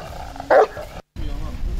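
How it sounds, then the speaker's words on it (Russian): A dog gives one short, loud bark in the middle of a local news segment, with background voices and room noise before and after. "Лай собаки, кстати, тоже нарушение нового закона о тишине."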